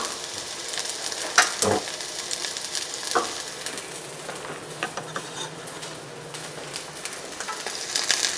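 Garlic fries in a pan with a loud, close, steady sizzle, broken by a few sharp clanks of a utensil against the cookware early on and softer stirring later.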